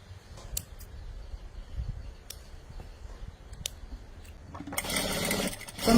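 A sewing machine runs in short, quiet bursts as fabric is stitched along one side, followed by a louder, harsher stretch of mechanical whirring toward the end.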